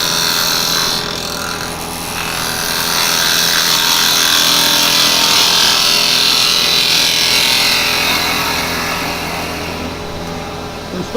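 Woodturning tool cutting a piece of firewood spinning on a lathe, producing a loud, continuous scraping and hissing that swells and eases as the bevel rides and rolls along the wood.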